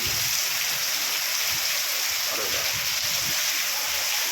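Steady, loud rushing of water pouring forcefully from a full pipe during heavy rain, a continuous broadband gush with no pauses, close by.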